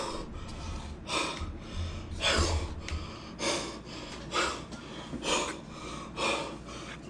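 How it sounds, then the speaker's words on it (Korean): Heavy breathing lands close on a live-stream microphone, a run of about eight loud, rhythmic breaths and gasps spaced roughly a second apart, with no talk. "숨소리 지리네 아주"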